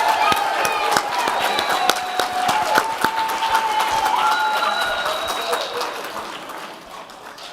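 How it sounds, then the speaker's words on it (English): Applause for a boys' Ranger Adventure Group at a church youth awards night, a crowd clapping under a voice over the PA, with some cheering before it thins out and fades toward the end. "Give a big round of applause."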